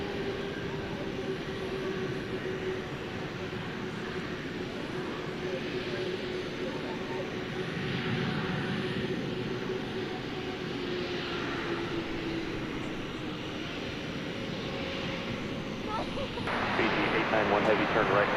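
Airliner jet engines at DFW Airport at night give a continuous, broad roar with a slow tonal whine drifting downward, steady and moderately distant, under talk that runs through the sound.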